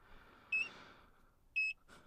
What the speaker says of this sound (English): We'll get this beeping because the voltage is low.